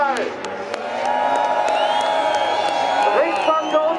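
A crowd at the Falken drift show at the 24h Nürburgring cheers and whoops for three drift cars, a sustained roar of voices with bursts of shouting.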